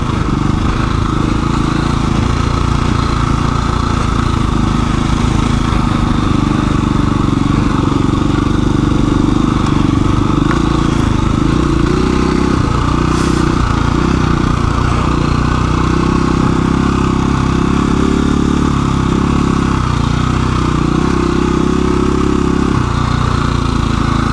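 KTM 350 EXC-f four-stroke dirt bike ridden on single track, its engine loud and constant throughout with revving rises and falls, close to the microphone and without talk.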